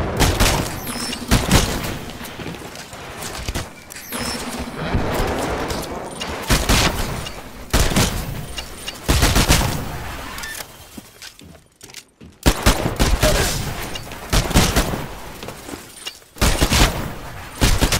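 Bursts of gunfire from a Titanfall training live-fire exercise, loud and close, with repeated volleys and booms separated by short pauses across the stretch.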